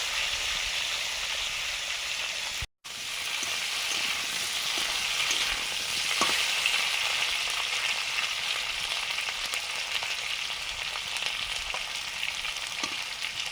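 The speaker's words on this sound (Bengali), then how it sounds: "এখন করছি কই মাছের রান্নাটা।" Koi fish fries in a pan with cumin, coriander, dried chilli, ginger and turmeric. A steady, close, crackling sizzle continues throughout, broken only by one brief dropout, with no one talking.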